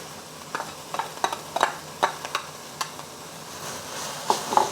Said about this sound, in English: I'm gonna stir fry this for about 3 minutes until the carrots are tender.